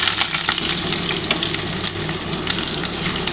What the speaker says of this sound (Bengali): আমি যে দুখানা পেঁয়াজ কুচিয়ে রেখেছি সেটা কিন্তু আমি ভেজে নিচ্ছি